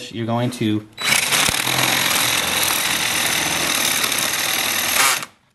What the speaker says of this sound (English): when you're drilling those holes, you want to start on one side